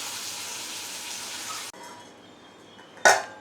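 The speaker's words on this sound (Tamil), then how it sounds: "தக்காளி வதங்கினதுக்கப்புறம் தேவையான அளவுக்கு தண்ணி விட்டு" Water pours steadily into a pot of tomato sambar in a home kitchen, a hissing splash that stops abruptly. A quieter stretch follows, then a sharp metallic clink of a utensil.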